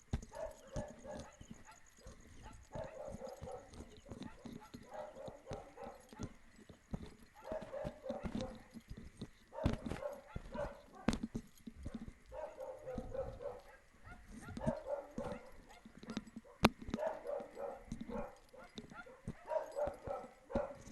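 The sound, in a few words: dogs barking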